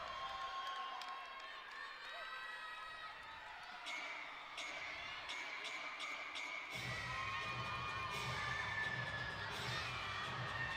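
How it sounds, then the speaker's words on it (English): Arena crowd at an Ohio State at Minnesota gymnastics meet cheers and shouts steadily throughout, swelling louder near the end as the excitement builds; dense, continuous roar with scattered high-pitched yells and no clear speech. "The crowd is pumped."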